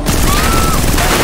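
Gunfire in GTA 5, a loud dense volley of shots filling a brief moment.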